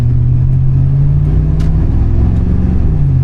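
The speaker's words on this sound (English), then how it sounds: "Very loud truck." Modified truck engine revs hard under acceleration, a loud, steady low rumble with rising harmonics that dominates the clip with no speech.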